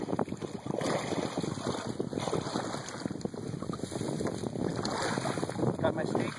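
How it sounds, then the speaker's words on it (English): Wind gusts buffet the microphone outdoors on open water while muskrat trapping, a rough continuous roar with some water lapping, and someone talks over it. "I know it's kind of windy out here today"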